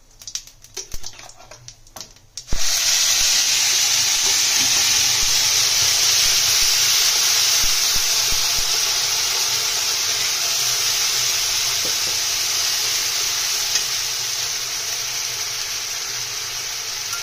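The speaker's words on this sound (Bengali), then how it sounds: "এটা একটু ভাজা ভাজা করে নিয়ে পেঁয়াজ বাটাটা দিয়ে দেবো" After a few quiet clinks, a loud sudden hiss erupts as onion paste hits hot oil, settling into a steady strong sizzle.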